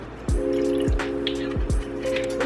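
White wine poured into a hot pan of shrimp scampi, a sizzling, bubbling splash with a few sharp hissing bursts over a steady liquid pour, close and fairly loud.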